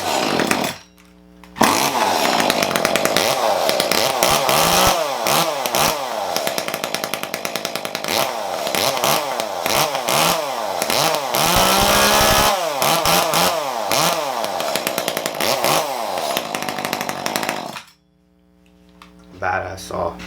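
A custom-built Echo chainsaw, likely the CS-2511T, starts after a brief pull and then runs loud and close for about sixteen seconds, its engine revving up and down repeatedly before cutting off abruptly.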